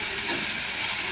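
Chopped onions dropped into hot ghee for a chicken biryani gravy give off a steady, broad hiss of frying that holds evenly at close range without a break.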